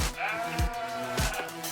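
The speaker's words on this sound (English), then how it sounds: "Ah, they're definitely loud sheep." Loud farm sheep let out two or three harsh, wavering bleats at close range, one after another, over a steady outdoor background.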